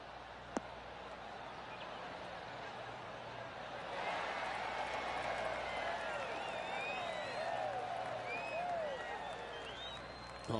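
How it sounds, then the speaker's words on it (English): Gallery at a PGA golf tournament, the Serenity Championship, gives a soft ripple of golf-clap applause after a shot on the 8th hole, rising around the midpoint and holding steady, with birdsong chirping over the top. "Oh, golf clap."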